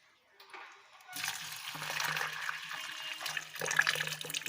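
Water poured over dried fava beans in a pot for Egyptian bessara, a rushing splashing stream that starts after a quiet moment and continues steadily, close and moderately loud.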